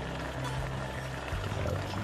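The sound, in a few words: chicken and pork ribs estafao bubbling while cooking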